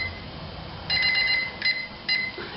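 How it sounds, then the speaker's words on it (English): Digital brewing timer on a kettle boil beeping: three short bursts of high electronic beeps over a low background rumble, close and clear. "we'll start the timer on that."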